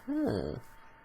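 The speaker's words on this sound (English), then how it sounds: "that sound you heard was all of my rituals around here kicking back in" In a video game, in-game rituals start up with a brief swelling electronic whoosh with a rising tonal sweep that fades quickly into quiet background hiss.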